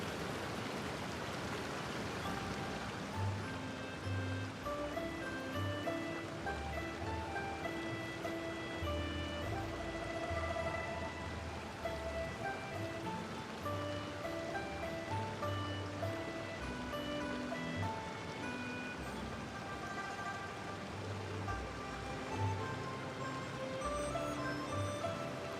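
Steady rain falls in the video game Genshin Impact, a constant hiss of water that runs unbroken from start to end beneath soft background music.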